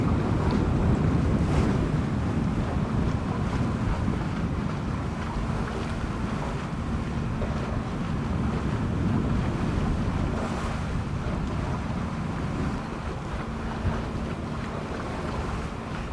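A boat cruises on open sea just outside a bay off Mexico, with a steady wash of waves and hull noise and heavy wind buffeting the microphone throughout, no voices.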